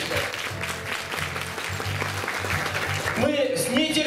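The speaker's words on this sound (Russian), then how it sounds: "Ваши аплодисменты." Applause from the audience greets the opening of a children's-education contest, steady clapping running under loud music with a voice rising near the end.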